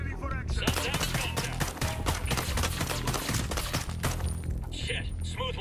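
Gunfire in the tactical shooter Tom Clancy's Ghost Recon Breakpoint during a night operation, dense rapid bursts of automatic fire cracking over several seconds, loud and close, with a voice over it at the start.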